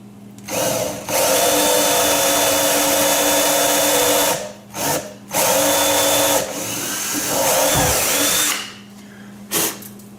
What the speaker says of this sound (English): now I'm going to drill a little hole here.